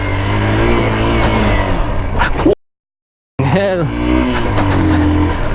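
An X-Pulse 200 motorcycle rides off-road up a steep wall, its engine revving loudly with rising and falling pitch close by, interrupted by a brief dropout, while a voice speaks over it.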